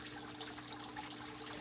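Water trickles steadily from a waterfall aquarium tank in a darkened fish room, a constant, close splashing gurgle with no voices.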